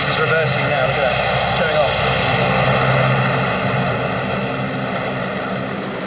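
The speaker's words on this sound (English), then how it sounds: "that's their Hercules is reversing now, look at that" The Blue Angels' Hercules transport aircraft, with the US Navy display team, reverses at an air display, its engines making a loud, steady, broadband roar that holds close and constant throughout.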